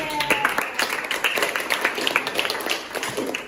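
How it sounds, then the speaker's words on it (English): Students in a microteaching class clap for classmates, a scattered run of hand claps at moderate distance lasting a few seconds with no speech over it. "give applause to them"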